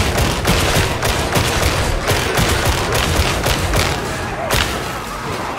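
Sustained, loud gunfire from the Warhammer 40k Darktide video game, Militarum-style shooting: dense rapid volleys and thuds pounding almost continuously, with no talk over them.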